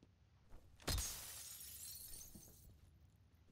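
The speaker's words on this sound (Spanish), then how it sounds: "Pero como soy de romper cristales" Glass breaks in the horror video game Fear with one sharp, loud shatter, followed by a couple of seconds of fading tinkling debris against a quiet background.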